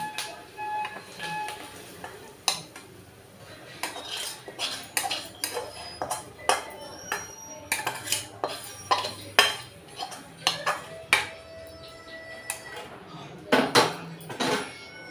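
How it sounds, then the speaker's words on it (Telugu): A spoon stirs hot tempering into ground black gram batter for a broken-rice roti, giving a long run of close metallic clinks and taps against the bowl, irregular and quickening toward the end, with no speech. "ఇదిగోటండి ఈ రుబ్బులోని ఈ తాలింపు వేసుకొని కలుపుకోవాలి."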